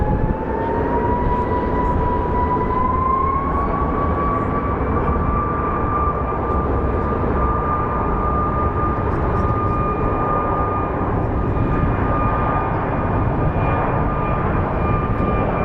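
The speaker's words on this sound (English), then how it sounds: "So the United Airlines is a 737 MAX 8 headed to Newark." A United Airlines Boeing 737 MAX 8 jet at Phoenix Sky Harbor International Airport gives a loud, continuous engine roar with a whine that rises and then holds steady, close and unbroken throughout.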